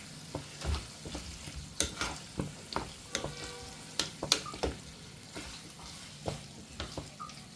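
Chicken roll filling mixed with soy sauce in a pan, repeated spatula scrapes and taps at an irregular rhythm over a soft sizzle, close and fairly quiet.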